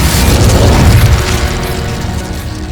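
An Incendio fire spell in Hogwarts Legacy erupts as a loud, deep, roaring blast in combat, with a full, rumbling burst that slowly eases off over a few seconds.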